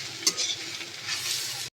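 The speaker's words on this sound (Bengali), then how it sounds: "এইভাবে কিছুক্ষণ একটু নাড়তে হবে, সমস্তগুলো যাতে একসঙ্গে মিক্স হয়ে যায়।" Hakka noodles sizzle in a hot pan while they are stirred and tossed, giving a close, continuous crackle with light scraping before a brief cut.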